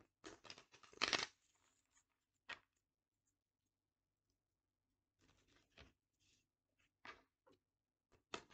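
Tarot cards are shuffled and handled at close range in a quiet room, with short papery riffles and flicks in separate bursts and gaps of silence between them.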